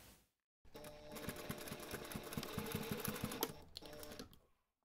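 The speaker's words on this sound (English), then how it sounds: "Now you can take this to the machine and just baste those raw edges together." A sewing machine bastes together the raw edges of fabric backpack straps in one steady, close, rapid mechanical run of stitches lasting a few seconds before stopping.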